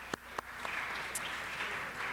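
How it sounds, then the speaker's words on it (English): Applause at a city council meeting after a commissioner's appointment vote. It opens with a couple of sharp, close claps, then settles into a soft, steady patter of clapping from the chamber. "Round of applause as well for him."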